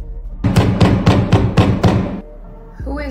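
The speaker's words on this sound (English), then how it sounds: "Who is banging on the door right now?" Heavy fists pound on a door in six loud, evenly spaced thuds, then stop; a voice comes in briefly at the very end.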